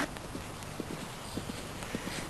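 Horse hooves strike the ground on a cross-country eventing course at Werribee Park in 1989, a steady galloping clip-clop of repeated, moderately loud beats over faint background noise.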